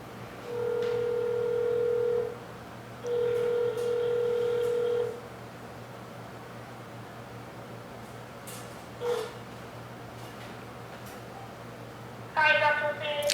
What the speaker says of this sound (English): Liz, I'm going to call you on a regular phone.